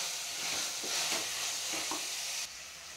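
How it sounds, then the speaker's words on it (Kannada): Carrots sizzle and fry with ginger garlic paste in hot oil, a steady bright hiss with a few soft stirring scrapes, easing quieter near the end. "ನೀಟಾಗಿ ಫ್ರೈ ಮಾಡ್ಕೊಬೇಕಾಗತ್ತೆ."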